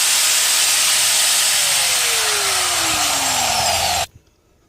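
A ZEKOKI ZKK-8100VS variable speed angle grinder runs loud and steady with a bright whine, its pitch sliding gradually downward before it cuts off abruptly into near silence.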